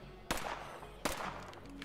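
Two gunshots fired in the video game State of Decay 2, sharp isolated cracks spaced under a second apart over a low background hum.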